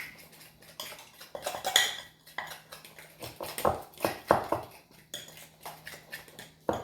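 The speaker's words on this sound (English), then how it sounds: "I'm going to do the best I can to mix it as much as I can." Thick batter for fried mochiko mahi mahi is mixed in a bowl, with repeated close clinks and scrapes of a utensil against the dish in an uneven rhythm.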